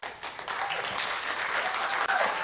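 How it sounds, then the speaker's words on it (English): A city council meeting audience applauding together, a dense, steady wash of clapping that fills the room, moderately loud, with a brief dip near the end. "you're out of order if you applaud in this setting"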